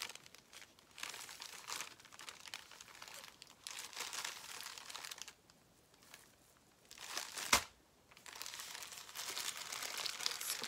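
Gift wrapping paper with gold on it is handled and opened. Bursts of soft, close crinkling and rustling come and go over several seconds, with a sharp tearing crackle near the end and no voices.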